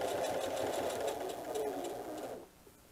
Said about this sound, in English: Rarely will you ever see me sew over a pin.